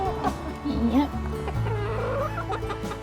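Young backyard hens just coming into lay cluck and call close by in short bursts, with people talking quietly over them.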